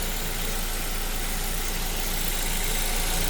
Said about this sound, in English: I'm gonna let it kind of idle and just observe it